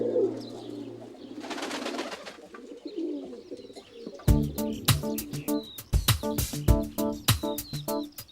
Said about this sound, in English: the dove is a holy bird